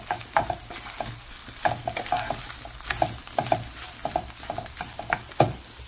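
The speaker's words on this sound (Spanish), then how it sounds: "Y ya cuando la salchicha se dore un poco, entonces sí ya pongo todo el chorizo." Sausage and chorizo fry in a pan with a steady sizzle, broken by repeated scraping and clacking strokes of a utensil stirring the meat, fairly close and with no voices.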